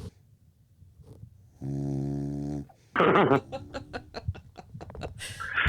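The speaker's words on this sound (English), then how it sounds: "Can you hear her? The dog snoring." A dog snoring up close: a long droning, buzzy snore stands out, followed by snorts, snuffles and short breathy sounds.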